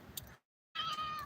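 A tortoiseshell cat, about two and a half to three years old, lets out two short, fairly close meows split by a brief silent gap, with no talking.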